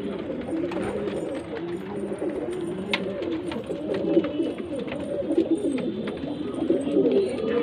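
Pigeons coo steadily at a market stall where fancy and desi mixed breeds are kept, a dense, continuous murmur of many birds close by with no talk over it.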